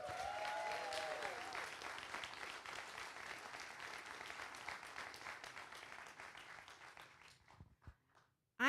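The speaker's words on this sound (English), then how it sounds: "a big round of applause for every single one of you in this room right now" Audience applause fills a room at a Black In Gaming event, steady and dense for about seven seconds before thinning to a few last claps, with a faint voice heard briefly early on.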